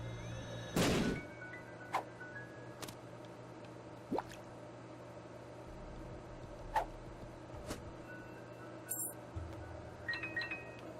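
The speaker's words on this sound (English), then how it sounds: "I'm just going to bomb it" A bomb goes off in The Binding of Isaac video game: one loud, booming burst near the start, followed by sparse soft drips, thunks and clicks from the game, with no talking.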